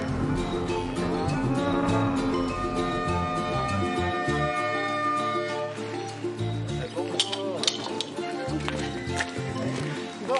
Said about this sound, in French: La belle vache au braque.